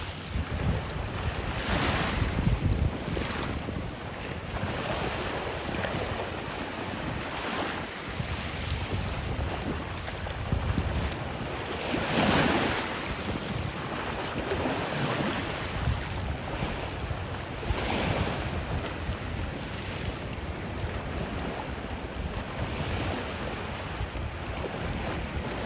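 Ocean waves wash in on a Florida island beach under steady, gusty wind buffeting the microphone, a continuous loud roar with periodic surges of surf and no voices.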